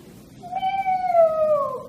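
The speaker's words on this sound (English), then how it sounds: "Meow, wailed Mr. Pusskins." A cat gives a single long, wailing meow, drawn out and gradually falling in pitch, loud and close with no other sounds around it.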